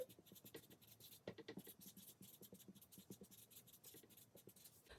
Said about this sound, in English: So I want to write that down.